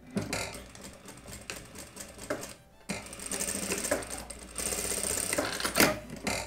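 A sewing machine stitches the central front and back pieces of a jumpsuit with a jabot ruffle, running in steady bursts with brief pauses and a short gap partway through.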